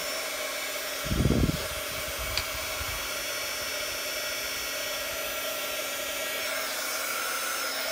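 A heat embossing tool runs as it warms up for embossing on a washi sample card, giving a steady airy hiss throughout with a brief low thump early on.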